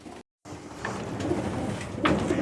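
Pigeons coo softly inside a loft, low murmuring calls scattered over a quiet background, close by, with a brief dropout near the start and no talking.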